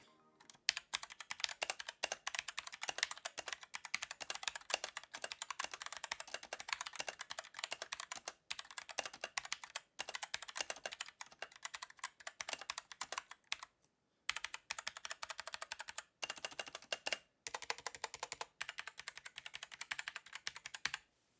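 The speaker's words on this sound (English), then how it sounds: "here's just a quick sound test of how the Gateron brown switches for this" Typing on a Cooler Master CK550 mechanical keyboard with Gateron Brown switches, a quiet, steady patter of rapid key clicks with brief pauses, close up and with no talking.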